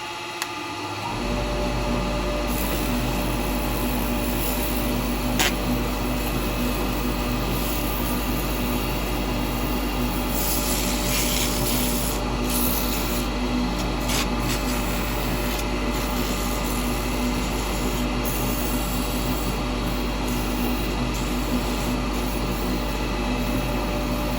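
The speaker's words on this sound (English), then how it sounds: "I'll do a little bit of sanding on that" A steady, loud machine drone of a power sander running continuously on a wooden bowl, with scraping wood contact noise layered over the constant hum.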